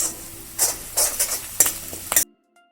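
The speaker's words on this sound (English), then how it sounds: "After 5 minutes of sauteing, we'll add ginger garlic paste." Onions sizzling in a pan while sautéing with ginger garlic paste for spicy Indian-style masala Maggi, a steady fry hiss broken by several stirring scrapes, close and loud, then cutting off abruptly near the end.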